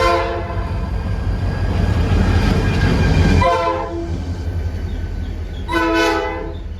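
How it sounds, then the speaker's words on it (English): An EMD GP40-3 diesel locomotive, number 3805, rumbles loudly close by. A long horn blast sounds first, then a shorter blast follows a couple of seconds later. "Here's a recording of the locomotive."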